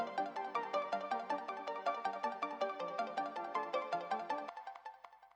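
Layered synth arpeggios with delay, auto pan and reverb tumble in rapid overlapping notes, building a shimmering verse ambience that thins out near the end, no voices present.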